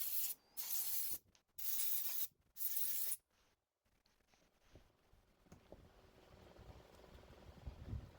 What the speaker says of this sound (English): And spray it out with a compressor.